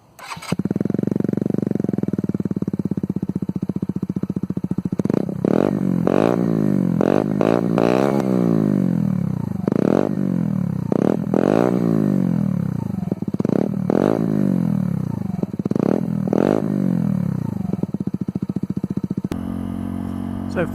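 A 2018 Mutt Fat Sabbath 125cc motorcycle starts and runs up close and loud, its single-cylinder engine revved repeatedly in rising and falling sweeps over about twenty seconds before it cuts off.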